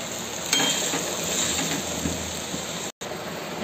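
Mashed boiled potatoes stirred through frying samosa masala in a pan, a steady close sizzle with soft scraping and a faint clink, continuous throughout, with a brief dropout near the end.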